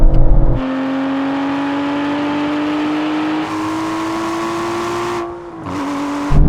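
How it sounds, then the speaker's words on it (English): Aston Martin V12 engine at a drag race, a loud sustained drone that climbs slowly in pitch as it revs and pulls away, dipping briefly near the end before resuming. "Rev it all the way."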